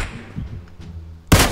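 One sharp, loud gunshot from PUBG Mobile, fired at a bot, cracks out near the end after a quiet stretch of faint background game ambience.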